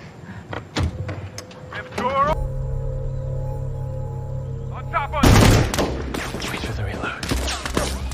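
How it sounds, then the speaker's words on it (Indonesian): Gunfire erupts as robbers shoot at an armored truck in the 2024 action film ARMOR, sharp bursts cutting through a droning engine-like rumble, with a dense volley of loud shots near the middle and more scattered cracks after. "Para perampok itu menembakkan senjata kepada truk mereka"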